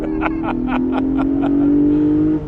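A Porsche Boxster GTS 4.0 sports car engine pulls hard in second gear, its pitch rising steadily in one long, loud, close run before cutting off near the end, with clattering mechanical pulses beneath the drone.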